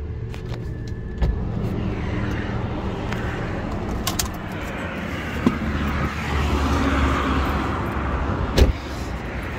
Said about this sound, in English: Feels smooth, good idle.